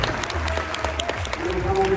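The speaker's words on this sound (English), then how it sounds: "Everybody give him a hand clap" Applause and clapping for a young alto saxophone player at a youth tour event, a steady crowd clapping with voices and tonal sounds mixed in throughout.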